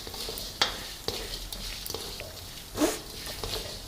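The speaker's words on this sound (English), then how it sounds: "You can hear the spluttering" Peppercorns with coriander seeds in hot oil in a pan for hotel-style tiffin sambar, giving faint crackling sizzle with a couple of sharper pops, close by.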